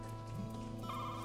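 A telephone rings in the horror game Shift At Midnight, a steady electronic ring held on clear tones, fairly quiet and heard alone.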